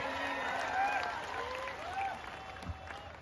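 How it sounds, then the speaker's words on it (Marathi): At a Maharashtra kusti wrestling dangal, a crowd claps for wrestler Sachin Pujari, the applause fairly faint and partly buried under an announcer's amplified voice. "सचिन पुजारीसाठी करा की टाळ्या सर्वांनी"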